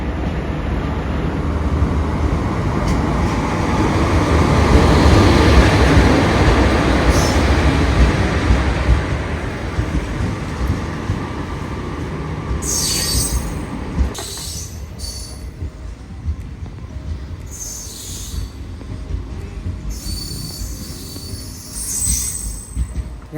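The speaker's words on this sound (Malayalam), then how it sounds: "നമ്മുടെ പരശുറാം എക്സ്പ്രസ് വരുന്നുണ്ട്." The Parasuram Express rolls into a Kerala station platform on the Ernakulam–Thrissur line, a loud sustained rumble of wheels and carriages that eases off, with high wheel squeals and screeches breaking through as it slows.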